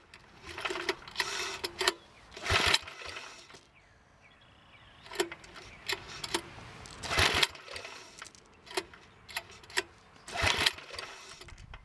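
A Wheel Horse Model 401 garden tractor engine, choked, cranks and sputters in repeated short bursts, catching briefly between pauses rather than settling into a steady idle. It sounds close and fairly loud, with no talking.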